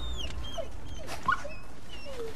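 Wolves in the video game God of War Ragnarok whimpering, a few soft high whines and yips close by over a low background rumble.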